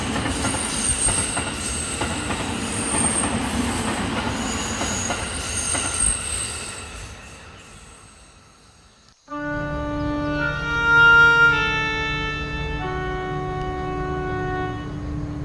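A colonial-era steam train in Java rumbles along with squealing wheels, then after a brief lull a sustained multi-tone whistle sounds over the running train.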